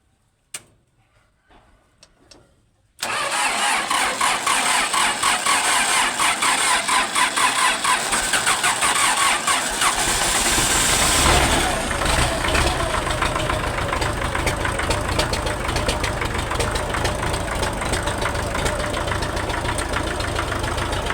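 An old Soviet-era tractor engine in Laos turns over after a few faint clicks, catches abruptly and settles into a loud, rough, knocking idle that keeps running close by.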